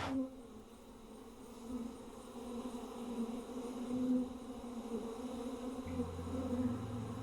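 Bees buzz softly and continuously, a low droning hum from several insects close by, with no voices.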